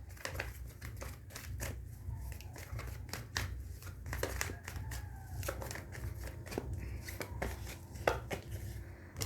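Tarot cards being shuffled and drawn by hand at a reading, a close, quiet series of riffling flicks and soft card snaps in an irregular rhythm, with faint speech in the background.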